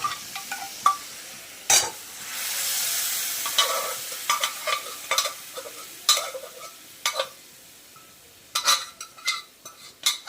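Spices and salt sautéing in a pan for chana dal give a soft sizzle under repeated sharp clinks and scrapes of a spoon stirring against the metal, irregular and close, with no speech.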